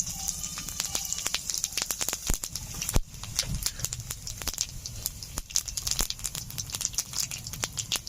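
Dried chilli and whole cumin crackle and spit in hot mustard oil, a dense run of sharp irregular pops and sizzles close up over a soft hissing bed.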